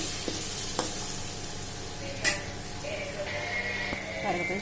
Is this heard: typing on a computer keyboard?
no